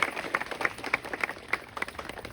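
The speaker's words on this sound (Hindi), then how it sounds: "जोरदार तालियों के साथ स्वागत और अभिनंदन हमारे आला अधिकारियों का।" Crowd of villagers clapping to welcome officials at a protest sit-in site in Chorgaliya, a dense steady patter of many hands at moderate distance with no talk over it.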